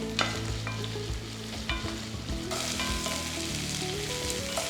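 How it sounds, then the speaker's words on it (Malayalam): Five cloves of sliced garlic and a half-inch of sliced ginger sauté in hot oil, crackling loudly and steadily as a spoon scrapes and clatters through the pan. "ഇതെല്ലാം കൂടെ ഒന്ന് വഴറ്റിയെടുക്കുക."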